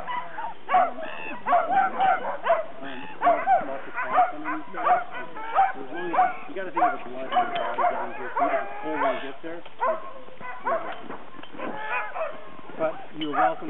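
Sled dogs in the Yukon bark and yip excitedly in a dense, rapid chorus before a dogsledding run, with voices mixed in among the calls.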